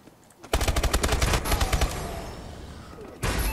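Automatic weapon fire in the video game Call of Duty Advanced Warfare during a hardpoint match: a loud, rapid burst of shots, a brief trailing lull, then another burst at the end, with no voices.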